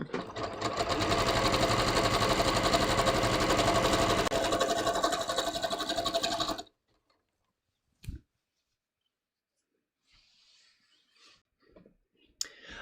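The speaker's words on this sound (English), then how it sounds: "she noticed that I just serged my seams" A serger stitches the seams of knit pants, a loud rapid mechanical chatter running steadily for several seconds before stopping, followed by a brief click and faint handling noises.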